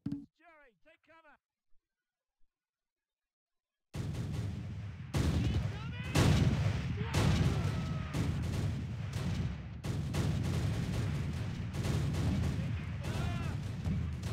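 Gunfire from soldiers in the Close Combat video game at Pegasus Bridge: after a few seconds of near silence, dense, irregular bursts of shots and booms crackle continuously and loudly.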